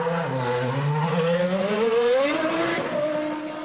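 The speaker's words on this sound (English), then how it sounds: "We're just going to wait while Jos Verstappen comes out the garage." A 2001 Arrows Formula 1 car with a Cosworth engine leaves the garage at the German Grand Prix, its high-pitched engine note rising steadily as it accelerates away, loud and close with no talk.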